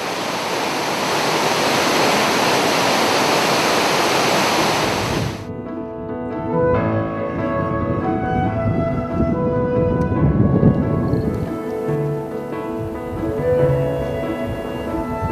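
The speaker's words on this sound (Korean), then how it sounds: "이렇게 수량이 풍부한 폭포가 흐른다는 사실이 놀랍죠?" Broad, steady rushing water from a high-volume snowmelt-fed waterfall in Yosemite National Park fills the first five seconds, then drops to a softer wash beneath music.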